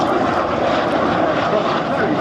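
A BAC Strikemaster and a Jet Provost roar past in a flying display at Scampton, a loud, sustained broadband jet rush filling the air, with a commentator's voice running over it.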